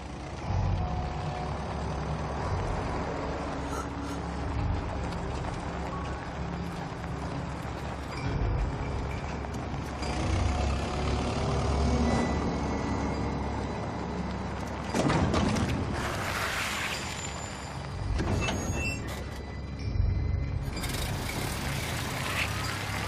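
An evening drive in the country: a vehicle engine rumbles steadily throughout, with a low road drone and occasional louder rattles and jolts, mid-distance and continuous.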